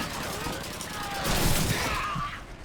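Rapid automatic weapon fire crackles in Call of Duty 2, a World War II shooter, short bursts overlapping in a busy firefight with no clear speech.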